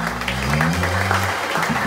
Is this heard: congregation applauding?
yes